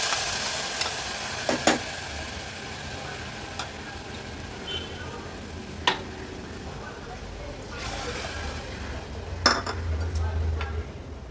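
Soaked, washed moong dal tipped into a pan and stirred, giving scattered metallic clinks and scraping taps over a low sizzle, with a few louder knocks near the start and end.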